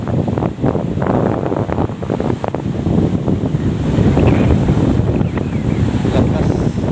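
Strong wind gusts buffet the microphone beside a boat on rough sea, while waves crash and churn in a loud, continuous roar with choppy surges throughout.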